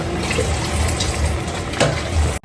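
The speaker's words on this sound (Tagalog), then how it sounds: "ito po ay hugasan pa natin sa tubig ng mga apat na beses para matanggal po yung asin" Salted boiled food is rinsed in water to wash the salt off, a loud, close stream of running, splashing water that continues steadily and then cuts off abruptly at the end.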